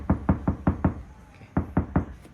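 Knuckle knocks on a Suzuki Ertiga car body panel fitted with heat insulation: a quick run of five dull thuds, a pause, then four more, close and moderately loud.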